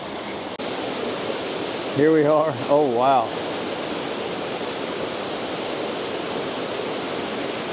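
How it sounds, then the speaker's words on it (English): Mingo Falls, a waterfall over 100 feet tall in Cherokee, North Carolina, pours as a steady, loud broadband roar throughout, while someone speaks briefly over it near the start. "There's the waterfall."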